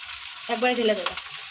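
Cold cooked rice is tipped into vegetables frying in a pan for fried rice, setting off a loud close sizzle with a short voiced sound briefly rising over it.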